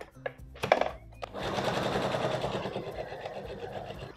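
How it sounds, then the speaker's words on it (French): A sewing machine stitches two waistband pieces together 1 cm from the edge of the fabric, a few clicks and short bursts leading into a steady rapid whirring run, close and moderately loud. "on prend une des deux extrémités de chacune et puis on vient coudre à 1 cm du bord"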